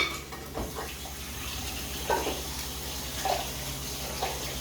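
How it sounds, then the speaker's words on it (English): Tap water runs steadily into a pan of freshly boiled, drained eggs, a continuous splashing hiss with faint clinks of the pan, no talking. "I'm going to go ahead and drain these eggs and put some cold water in it."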